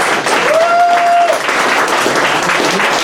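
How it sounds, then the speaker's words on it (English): Audience applause at a meet-the-candidates event hosted by a radio station, loud continuous clapping with a short whistle early on, steady for the whole stretch. "How about a round of applause for our candidates tonight?"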